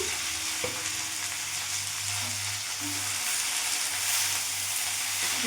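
Pumpkin leaves fry with dried red chilli in a pan, a close, steady sizzle with scraping and stirring from a spoon as the leaves are turned over.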